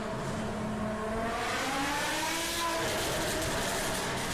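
BMW M5 E60 with its 5.0-liter V10 revving, a rising, strained engine pitch climbing steadily against a continuous roar, close and loud throughout.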